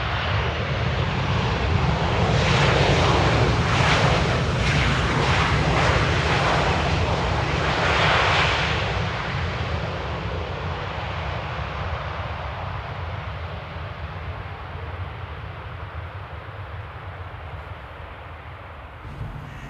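A Boeing airliner lands at Amsterdam airport in the rain, its engines a loud, broad roar that swells over the first nine seconds and then eases into a steady, fading rumble with rain noise.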